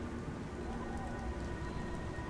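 Steady rain falls in the video game Beyond: Two Souls, a constant broadband hiss of drops on surfaces, even and unbroken with no talk over it.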